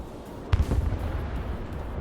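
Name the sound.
HARM missile launch in the video game Broken Arrow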